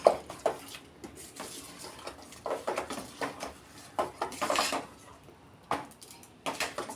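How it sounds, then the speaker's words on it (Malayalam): Rice payasam being stirred in a pot, a spoon scraping and knocking against the metal in irregular bursts, close by, with no talking. "നന്നായിട്ട് ഇളക്കി യോജിപ്പിച്ചെടുക്കാം"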